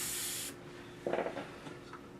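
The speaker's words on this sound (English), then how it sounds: "Right now I'm just spraying out the residue." A steady hiss of spray for about half a second, then fainter rubbing and scrubbing noises nearby.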